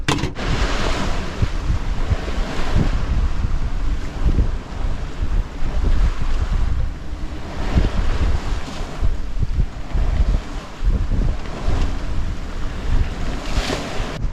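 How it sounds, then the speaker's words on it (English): Strong wind buffets the microphone while waves slosh and surge around a sailboat between Tongan islands, loud and continuous with rolling swells. "Didn't expect it to be so windy today."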